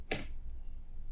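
A single sharp click of the Enter key being pressed on a computer keyboard, brief and close, over a faint quiet room hiss.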